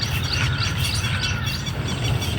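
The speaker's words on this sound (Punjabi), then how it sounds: "ਪੰਛੀਆਂ ਦੀਆਂ ਆਵਾਜ਼ਾਂ ਸੁਣਨ ਵਾਲੀਆਂ" Birds chirp and tweet steadily throughout a quiet outdoor morning walk, with several overlapping calls at moderate distance over a low ambient rumble and no talking.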